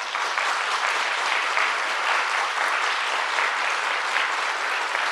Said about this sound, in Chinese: 刚才主持人说要用100分的掌声鼓励自己